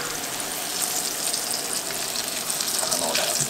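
Bluegill fish fry in hot oil with a dense, continuous hiss and crackle that stays close and steady throughout.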